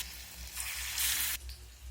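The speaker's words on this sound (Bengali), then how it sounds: "কোট করে নেওয়ার পরে গরম তেলের মধ্যে দিয়ে দেবো।" A batter-coated jackfruit chop fries in hot oil, a loud, close crackling sizzle that swells briefly in the middle and then settles into steady bubbling.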